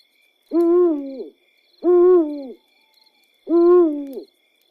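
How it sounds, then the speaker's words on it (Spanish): An owl hoots three times over a cave, each call a long, wavering tone with pauses between, close and loud in an otherwise quiet setting. "El búho apareció sobre la cueva y cantó 3 veces."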